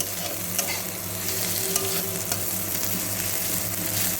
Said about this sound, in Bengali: এইভাবেই পুরোটা ভেজে নেব। নুন দেওয়াতে পেঁয়াজগুলো অনেকটাই নরম হয়ে গেছে